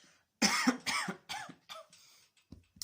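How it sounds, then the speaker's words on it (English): A series of several harsh coughs close to the microphone, bursts separated by short pauses, trailing off into quieter throat sounds. "give me a couple of seconds to cough."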